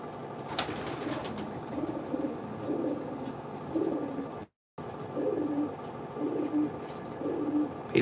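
Pigeons in a breeder loft coo in soft, repeated low murmurs that carry steadily through the clip, with a brief silent gap midway and no talking.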